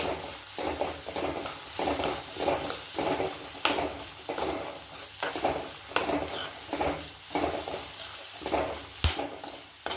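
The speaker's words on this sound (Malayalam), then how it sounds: "നമുക്ക് അരിഞ്ഞു വെച്ച ക്യാബേജ് ഇടാം." Chopped cabbage stir-frying in a pan while momo filling is cooked, with a steady sizzle under repeated rhythmic scrapes and stirring strokes of a utensil against the pan, close and fairly loud throughout, no talking.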